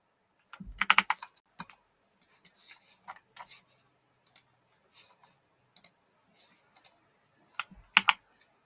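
Keys clatter on a new computer keyboard in short, irregular bursts of close, crisp clicks, separated by brief pauses and ending in a final flurry.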